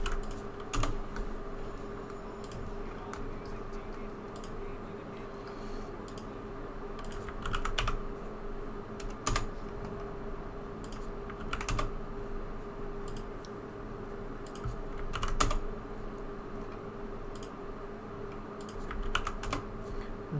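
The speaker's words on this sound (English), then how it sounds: "It's just an incredible amount of typing." Steady typing on a computer keyboard, with rapid soft key clicks and occasional louder taps over a constant electrical hum, fairly quiet and close, with no talking.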